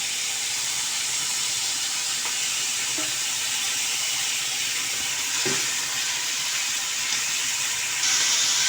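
Chicken pieces dropped into hot oil in a pan, a steady close sizzle and hiss with faint clinks of stirring throughout.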